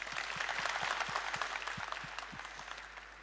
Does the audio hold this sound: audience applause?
yes